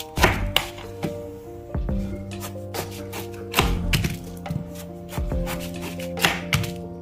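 A knife chops through jackfruit on a board in a series of sharp, irregular thwacks, some heavy and some lighter, close up and loud, with no talking.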